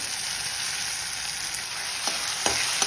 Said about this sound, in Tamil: வெங்காயத்தை சேர்த்து வதக்கிக்கலாம். தக்காளியை சேர்த்துக்கலாம். மசிச்சு வச்சிருக்க கத்திரிக்காவை போட்டு வதக்கிக்கலாம்.